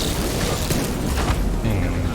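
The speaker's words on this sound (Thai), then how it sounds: "ปาระเบิดทิ้งไว้ก่อน" A dense, loud grenade explosion in the video game Division 2 booms and rumbles throughout, with crackling debris and a low hum underneath.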